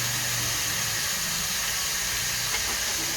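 Chopped cabbage frying in a little oil, giving a steady, even sizzling hiss that holds at a constant level throughout, close and uninterrupted.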